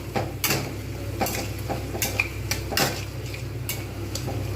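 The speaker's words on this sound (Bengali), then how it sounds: "প্রত্যেকটা আমি কিন্তু ভালো করে একসঙ্গে নিয়ে কষতে থাকবো।" Roasted coriander and cumin powder, salt and sugar stirred together in a pan for potol dorma, with scattered clinks and scrapes of a spoon against metal over a low steady background hum.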